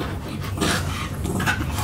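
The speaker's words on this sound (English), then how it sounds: "My dogs are playing." Dogs playing indoors, with steady, close rapid panting and shuffling movement throughout a short burst, no voices.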